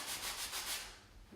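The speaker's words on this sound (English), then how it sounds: "This is my super fine sponge sanding block. I'm going to use it in here" A super fine sponge sanding block rubs by hand along a painted interior bottom edge in quick back-and-forth strokes, about five soft rasping passes close up before fading out.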